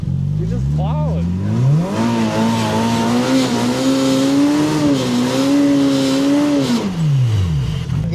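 A Polaris Pro R UTV plows through deep blizzard snow, its engine revving hard with a strong rising and falling drone that climbs, holds high for several seconds, then drops away. The sound is loud and continuous, with voices talking over it.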